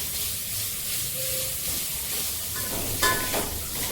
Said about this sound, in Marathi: लसूण, जिरं आणि कोथिंबीर हे चांगलं फ्राय होऊन द्यायचं.